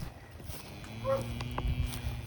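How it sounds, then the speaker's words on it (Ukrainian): A cow gives a short low moo amid faint background noise on a livestock farm in the village of Yurkivka, where pigs, cows and sheep are kept outdoors, the call moderately near and brief. "На фермі розводять свиней, корів та баранів."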